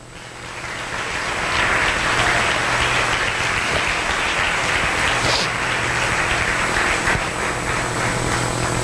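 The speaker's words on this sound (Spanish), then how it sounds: "Denle un aplauso al Eterno." Applause from a church congregation swells in and holds as a dense, loud, continuous clapping roar for several seconds, with no speech over it.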